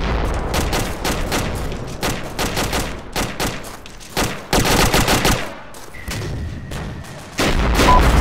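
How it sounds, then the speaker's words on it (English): Gunfire in the Arma military game during a Shack Tactical mission: dense, loud volleys of rifle and machine-gun shots cracking in rapid irregular bursts, with a short pause before heavier firing resumes. "Open fire whenever."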